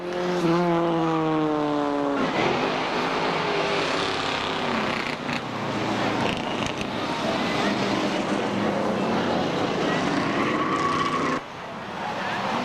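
A race car laps the third-mile Seekonk Speedway oval, its engine loud and close with rising and falling pitch through the gears, holding a steady roar throughout with no voices.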